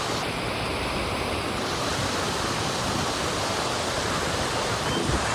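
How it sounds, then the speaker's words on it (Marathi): Dhanghar waterfall near Badlapur pours in a steady, dense rush of water that stays close and loud the whole time, with no voices over it. "आणि आपण आता पोचलोय धनगर वॉटरफॉल"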